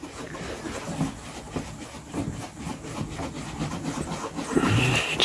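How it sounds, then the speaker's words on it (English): Microfiber cloth rubbing tar remover into car paint during polishing, a steady soft scrubbing and swishing with faint rhythmic strokes, close and fairly quiet, no talking. "Just gonna work that in with the microfiber cloth."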